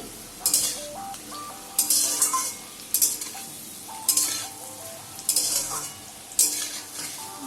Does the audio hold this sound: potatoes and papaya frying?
yes